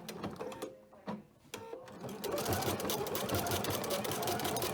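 A sewing machine chain stitches a hip purse, starting with a few short halting bursts and then running in a loud, steady mechanical rattle up close.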